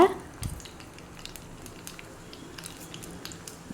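Crushed garlic, mustard seeds and cumin tempering in hot oil for a tamarind-leaf dal, giving a faint, steady sizzle with scattered small pops and crackles after a brief clatter at the start.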